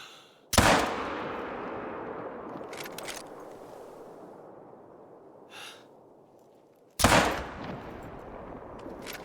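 Two loud hunting rifle shots in theHunter: Call of the Wild, each a sharp crack followed by a long rolling echo that fades across open terrain, with a faint breath or rustle between them.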